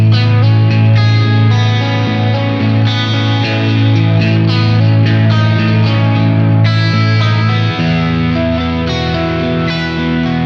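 An electric guitar, a B3 Phoenix in the middle pickup position, plays sustained, ringing chords with a bright, twangy, slightly effected tone, loud and continuous throughout.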